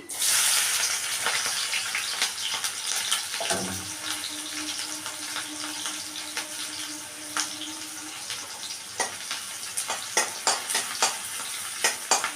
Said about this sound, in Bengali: পেঁয়াজ কাঁচা লঙ্কাটা একটু ভেজে নিচ্ছি